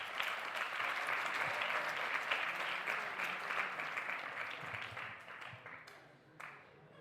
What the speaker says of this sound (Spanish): Le regalamos un fuerte aplauso